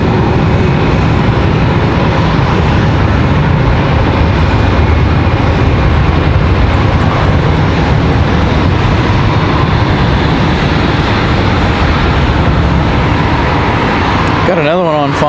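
American Airlines jet departing Charlotte Douglas airport, a loud sustained engine roar holding steady for the full stretch, with a brief disturbance near the end.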